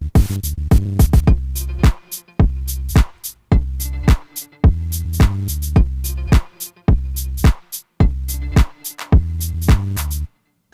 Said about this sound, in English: the white noise from the drift synthesizer with a low cut and an auto pan